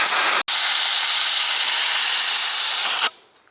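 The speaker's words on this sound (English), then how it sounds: "give it some compressed air" Compressed air blasts into a small Tesla turbine as a loud, continuous close hiss, broken by one split-second gap near the start and cut off abruptly after about three seconds.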